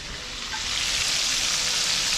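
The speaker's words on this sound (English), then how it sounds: "I got more fish to fry." Fish sizzles and crackles steadily in a hot frying pan, a loud continuous hiss heard close with no talking.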